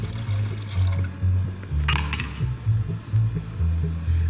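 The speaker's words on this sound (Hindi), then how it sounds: "तकरीबन 1 गिलास के करीब पानी डाल रही हूँ।" About a glass of water is poured into masala cooking in ghee in a home kitchen, making a continuous splashing pour with a few light clinks, close and fairly loud.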